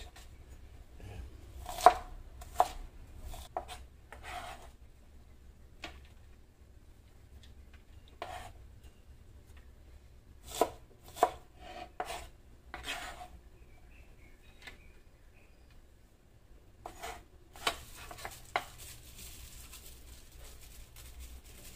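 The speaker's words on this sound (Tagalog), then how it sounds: "ang gisa sa bagoong na alamang. Sibuyas." Onions are chopped on a board before sautéing with shrimp paste. The knife strikes come in short, irregular bursts of sharp taps with quiet pauses between, close and clear. No one talks.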